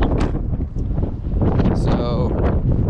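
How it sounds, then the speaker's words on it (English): Strong wind buffets the microphone outdoors around a 2016 Toyota Tacoma SEMA build, a loud continuous rumbling roar with gusty swells, while a person talks over it. "it's kind of windy"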